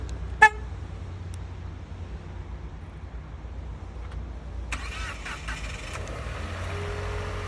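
A 2022 Nissan Rogue (T33 body, 1.5 engine) gives one short, sharp horn chirp on remote start, then after a few quiet seconds its engine cranks and catches and settles into a low hum nearby.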